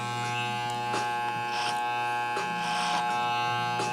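Hair clippers buzz steadily while cutting a low drop fade using the clipper-over-comb method. The constant electric hum carries brief rasping bursts as the blades work through hair, heard close up with no talk.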